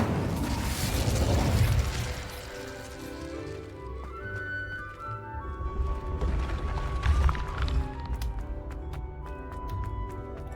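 A fire spell is cast in Hogwarts Legacy, with a rushing fiery burst and crackling pops over game music, then quieter mechanical effects.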